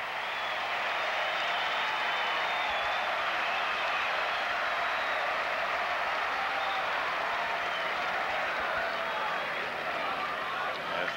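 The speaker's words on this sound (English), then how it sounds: "reaction of the crowd." A large crowd at the 1976 U.S. Open tennis final between Connors and Borg keeps up a dense, steady roar of cheering and applause that stays loud and unbroken throughout.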